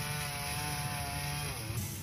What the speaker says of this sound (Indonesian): Petugas terkait berusaha mengevakuasi batang pohon yang menutupi jalan dengan gergaji mesin.